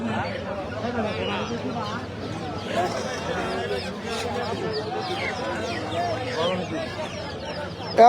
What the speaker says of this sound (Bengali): এই যে এখানে সব ধরনের মুরগি পাওয়া যায়